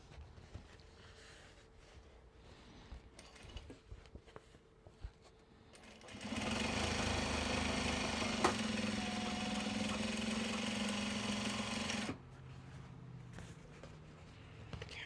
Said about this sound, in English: Okay, we're still going on top stitching.